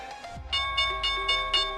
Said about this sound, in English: there's the closing bell here